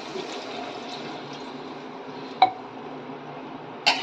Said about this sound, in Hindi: ग्रेवी के हिसाब से पानी डालेंगे,